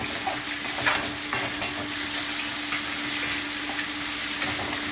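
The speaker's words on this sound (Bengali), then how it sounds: "এই পেঁপেটা নাড়াচাড়া করতে করতেই ঢেকে দিলেই পেঁপে থেকে জল খায়" Papaya pieces stirred in a pan for a papaya dhokar dalna, a steady close sizzle with soft scraping strokes of the spatula repeating throughout, no voices.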